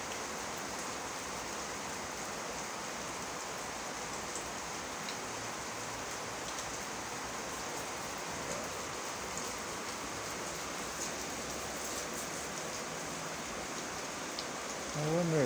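Steady rain hisses across the whole stretch, a dense even wash of falling water with no letup.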